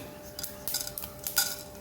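A spoon stirs fenugreek seeds roasting alongside popped mustard seeds in a pan for Guruvayur-style rasakalan, giving a few faint, quick metallic scrapes and taps against a quiet background.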